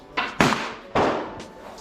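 Two sharp, loud reports from a Challenger big bore 9mm airgun, each a hard crack with a fast decaying boom, fired close by about half a second apart.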